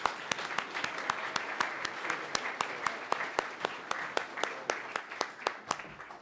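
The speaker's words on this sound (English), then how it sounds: "So give yourselves a round of applause." Steady applause from a congregation in a chapel, a dense wash of hand claps with sharp individual claps popping through at a fairly quick rhythm, sustained at even loudness throughout.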